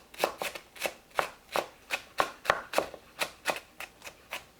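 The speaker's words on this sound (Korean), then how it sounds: "파를 잘게 썰어주세요." Green onions finely chopped with a knife on a cutting board while preparing Korean dried radish greens (siraegi) namul, a quick, steady run of about twenty crisp, close knife strikes with nothing else heard.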